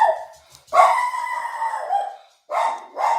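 A dog barks and yelps in a few close, loud bursts, with a long drawn-out whine in between, heard alone without talk.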